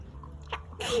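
One sharp sneeze bursts out near the end after a quiet intake of breath, close and fairly loud, with no talking.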